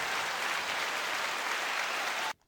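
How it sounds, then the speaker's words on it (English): A podcast studio audience breaks into dense, steady clapping, loud and continuous, then cuts off abruptly into near silence at the end. "Everybody clap."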